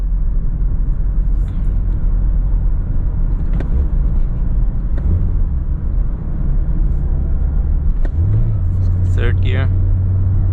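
A 2021 Mazda MX-5 Miata RF with a six-speed manual cruising on a highway, a steady low engine and road rumble with wind noise inside the cabin, plus a rising engine tone near the end.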